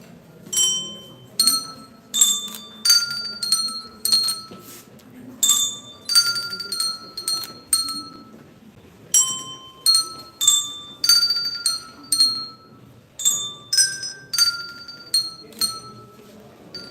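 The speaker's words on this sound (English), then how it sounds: "when I point at your color, you play the corresponding bell" Colour-coded handbells rung by a group in turn, picking out a simple melody: a steady run of bright, ringing struck tones with lingering overtones, some overlapping, close and fairly loud over faint room murmur.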